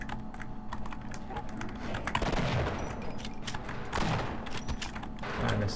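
Shotgun blasts from the Half-Life video game, two loud bursts roughly two seconds apart over a steady layer of game ambience and keyboard clatter.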